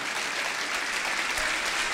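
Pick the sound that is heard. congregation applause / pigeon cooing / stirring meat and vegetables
congregation applause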